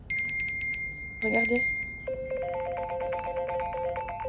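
Two phones, just switched out of airplane mode, chime with a rapid run of repeated notification alerts and ringtone melodies that overlap continuously, with a brief voice partway through.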